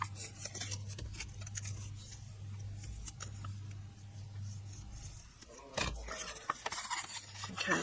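Folded paper card stock rubbed firmly along its score lines with a burnishing tool, a steady soft scraping that runs for several seconds before a few sharper handling noises, close and fairly quiet.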